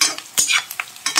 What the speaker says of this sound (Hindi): आराम आराम से चलाते रहिए, प्याज हमारा गले ना, भूरा हो जाने दीजिए प्याज को।